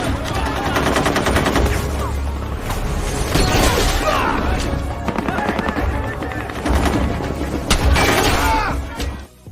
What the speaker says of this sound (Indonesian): dia gagal menembak sehingga membuat semuanya panik dan terjadi peperangan